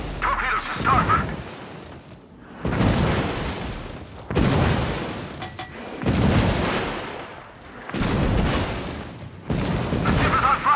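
Heavy naval gunfire from a battleship in World of Warships, several loud booming salvos at irregular intervals, each with a long rumbling decay, layered with game noise and radio-style voice callouts.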